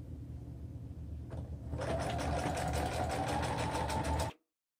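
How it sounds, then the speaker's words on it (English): A sewing machine stitches garment pieces together, speeding up into a steady, rapid mechanical whir for about two and a half seconds before stopping abruptly. "let's sew our side front to our front piece"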